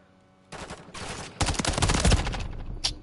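Rapid automatic gunfire rattles through a Call of Duty MW3 firefight, with bursts of shots in overlapping volleys that grow denser and louder, close and intense, ending with a brief final crack.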